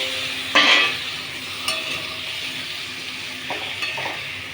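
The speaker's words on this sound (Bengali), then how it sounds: "হলুদটা গুলে দিলাম।" Turmeric is stirred into rohu fish frying in a pan, with a gentle, continuous sizzle of oil. A few short scraping strokes of a spoon against the pan sound close by.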